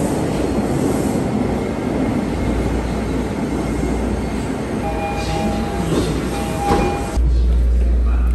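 Steady rumble of a train in motion in Tokyo, Japan, heard from inside a carriage, with faint wheel squeal and a brief tone before the noise shifts.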